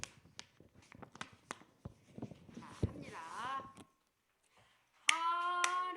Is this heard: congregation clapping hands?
yes